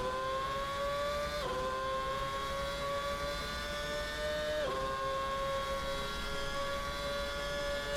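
A McLaren MP4-2 Formula One car's engine drives around Bathurst in the Assetto Corsa racing game, a loud, steady high-pitched howl that drops sharply at two gear shifts and then climbs again, with no talking.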